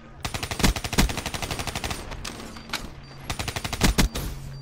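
Rapid automatic gunfire from a competitive tournament video game shooter, bursts of dense repeated shots with short pauses between them, loud and close throughout the clip.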